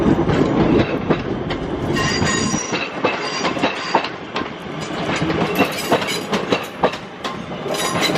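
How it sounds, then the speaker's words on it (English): A Class 323 electric train works a service to Manchester Piccadilly at Crewe station, giving a close, loud rumble. Wheels clatter over rail joints with intermittent squeals as the train moves through the platform. "it's another 323 working service to Manchester Piccadilly"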